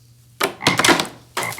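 Frogs croak in loud, close, raspy bursts, three throaty calls within under two seconds, alone with no talk.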